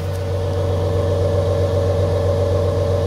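A 2022 Toyota Tundra TRD Pro idles with a steady, low engine growl, close and continuous for about three seconds, with no talking over it.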